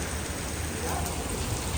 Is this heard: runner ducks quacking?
no